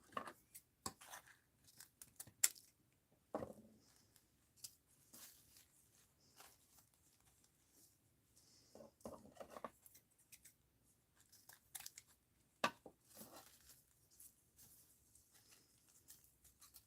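Scissors snip through twisted paper strips in scattered sharp cuts across a quiet desk, with soft rustles and handling in between, close and faint.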